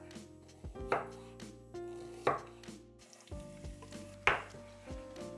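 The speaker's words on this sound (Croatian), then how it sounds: "a luk ćemo narezati na kriške" An onion is cut into slices with a knife, with several sharp, distinct chops at irregular intervals over a low sizzle of oil heating in a pan.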